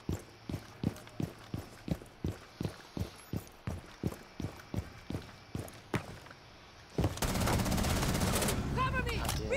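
Video game gunfire: a regular string of single sharp shots, about three per second, sounds for several seconds, then gives way to a dense, loud wash of noise.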